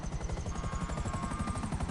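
Helicopter rotor in GTA Online, a steady rhythmic thumping chop with a continuous turbine whine, loud and close throughout with no talk.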